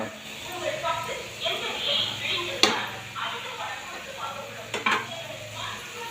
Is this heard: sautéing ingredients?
yes